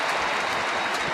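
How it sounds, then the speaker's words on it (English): Dense, steady roar of a large stadium crowd cheering and clapping at an Essendon versus Greater Western Sydney AFL football match, a continuous broad wash of noise with no breaks. "the crowd is really starting to find voice down here"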